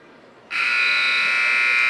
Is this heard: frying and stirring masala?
no